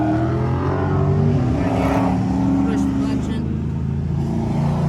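Budget hot rod engine with carburetor trouble cranking over and running rough, a loud close mechanical drone with uneven pitch, while people talk over it.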